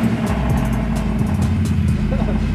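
A supercar's engine idles and burbles in a garage, a loud, close, deep exhaust rumble with steady low pulsing throughout; voices talk faintly beside it.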